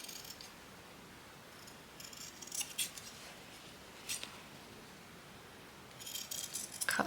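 Scissors make a few quiet, crisp snips as they trim a corner while a small key fob and purse are being crafted. Faint short cuts are scattered over a near-silent background.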